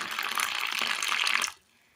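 Lukewarm water pours steadily into a bowl of wheat flour seasoned with salt and curry leaves. It is a close, continuous splashing stream for about a second and a half, then stops abruptly into near silence.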